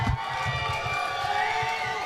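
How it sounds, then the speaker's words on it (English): A crowd at a MotoAmerica superbike race in New Jersey cheers and shouts from a distance, a dense roar that holds steady for a couple of seconds. "You can tell the crowd's really enthusiastic about this"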